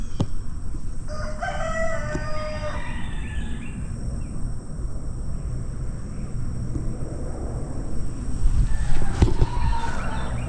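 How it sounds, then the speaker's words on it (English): A rooster crows near a shack, a drawn-out harmonic call rising and falling over steady outdoor background noise, with a few sharper sounds later on; no one speaks. "guess it's a chicken."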